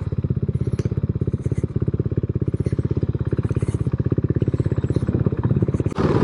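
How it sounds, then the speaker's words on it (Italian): A KTM 390 Adventure motorcycle on an enduro trail, its engine a loud, steady, close pulsing drone throughout, with a brief knock near the end. "Il 390 è una moto veramente versatile con cui potete fare di tutto."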